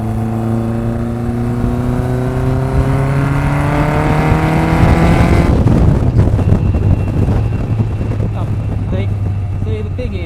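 An old car drives close by, its engine revving and rising in pitch for several seconds, then dropping to a rougher, busier running note, with wind buffeting the microphone and people talking.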